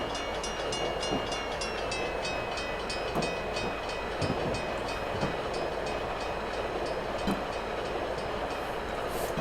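Train running in Train Simulator 2015 through a built-up area on the Chicago–Aurora line: a steady, loud rolling rumble with faint rhythmic clicks and a high tonal whine throughout, continuous and close.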